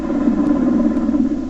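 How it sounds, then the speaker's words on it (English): A steady, loud rotor-and-engine drone of a Black Hawk helicopter, constant throughout with a low heavy hum and no voices. "This is what a normal Black Hawk sounds like."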